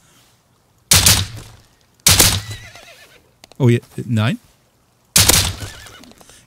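Several loud, close horse whinnies in the video game Rust come in short bursts separated by pauses, with a brief exclaimed voice between them.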